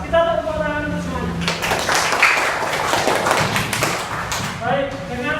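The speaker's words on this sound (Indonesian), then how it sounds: "Kita tepuk tangan untuk semuanya." Classroom applause for all student groups, a dense stretch of many hands clapping between bits of a teacher's speech at the start and end, fairly loud and close.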